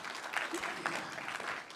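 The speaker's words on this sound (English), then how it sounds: "Ho mai te paki, you can clap." Audience applause at a Waikato-Tainui tribal hui: a steady patter of many hands clapping across the room, moderately loud and continuous, with a faint voice underneath.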